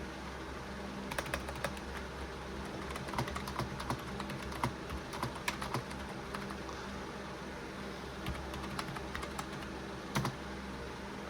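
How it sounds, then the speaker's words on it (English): Someone types on a SteelSeries Apex 100 gaming keyboard, and the soft key presses patter steadily and close up over a faint background hiss. No voices are heard. "typing on it just feels amazing."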